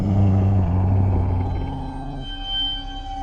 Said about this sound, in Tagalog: Parang mababang ungol ng hayop.